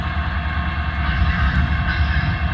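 Broadway Limited Spirit model train locomotive running on a layout, a steady low rumble and mechanical whir heard at moderate level with no talking.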